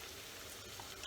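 Boiled potatoes fry in a pan with oil, giving a steady, close sizzle and crackle that stays even throughout, with no one talking.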